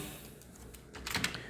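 Someone typing a prompt into ChatGPT on a computer keyboard, soft clicks faint at first, then a quick cluster of louder keystrokes toward the end, close and alone without talk.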